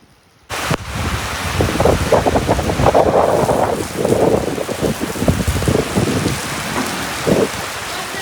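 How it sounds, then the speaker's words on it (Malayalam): Heavy summer rain driven by strong gusting wind, a dense and steady roar close by that starts abruptly and carries on for several seconds with no talk. "അപ്പോൾ അങ്ങനെ കാറ്റൊക്കെ വീശി നല്ല മഴയും കിട്ടി."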